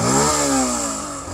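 A 2024 Yamaha FZS V4 150cc motorcycle engine is revved once close up, the pitch climbing sharply then falling back toward idle in a single loud, brief burst.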